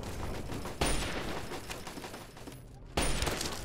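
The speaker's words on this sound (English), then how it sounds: "Minigun versus lever action rifle." Rapid bursts of gunfire from a minigun and a lever action rifle in Fallout 3, a distant steady rattle broken by two sharp louder blasts.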